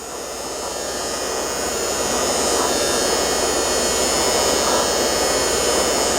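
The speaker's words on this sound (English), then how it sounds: "We're going to use a heat gun. This is looks like it's about a 250 watt heat gun." A roughly 250-watt heat gun blows steadily while warming a plastic connector on an 86-89 Corvette electronic climate control unit, a constant close airy roar with a faint motor whine, building slightly louder and continuing without pause.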